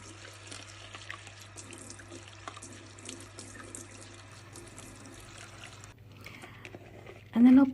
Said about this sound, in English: I'm going to wash the lentils in several bowls of water like this